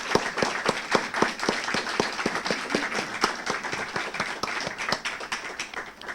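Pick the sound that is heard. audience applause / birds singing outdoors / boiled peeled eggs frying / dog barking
audience applause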